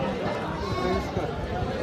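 Goats and young goat kids bleat at a busy goat market in Ajmer, with short calls mixed into chatter and people talking nearby.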